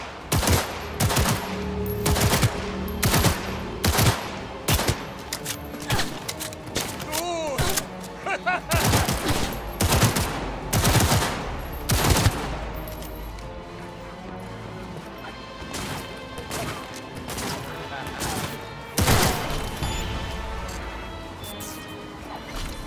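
Machine gun fire in the video game Cyberpunk 2077 comes in loud repeated bursts of rapid shots with crashing impacts, easing off midway before another burst, with game sounds throughout.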